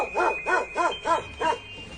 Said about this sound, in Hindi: वो कुत्ते की भौंकने की आवाज आ रही है।